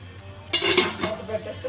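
A metal lid is set down on a steaming pot while cooking kothimeer vadi: a sharp clattering clank followed by a few lighter rattles of metal, close and fairly loud over a low steady hum.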